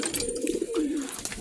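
A racing pigeon entered in a derby coos close by in a short, soft, warbling burst with faint background ambience.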